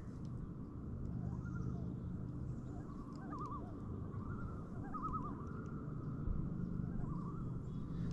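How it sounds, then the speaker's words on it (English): Faint, wavering common loon calls drift in from far away, a few tremolo phrases rising over a steady low background rumble. "Loons have got to be one of the coolest species of birds on planet Earth."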